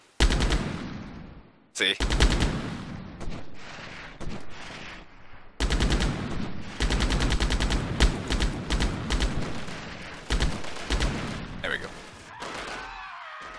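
Machine gun fire in the video game Delta Force 1, heard as repeated loud sustained bursts separated by short pauses, with someone speaking briefly between them.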